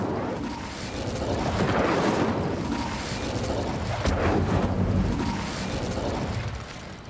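Incendio fire spell in Hogwarts Legacy, a broad whooshing, crackling blast that swells early and holds at steady loudness before easing off, with a brighter burst midway.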